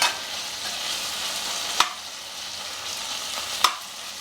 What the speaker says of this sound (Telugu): ఇంకా ఈ రవ్వ పోసేస్తున్నా ఏగుతూ ఉంటుంది ఈ రవ్వ కొర్రల రవ్వ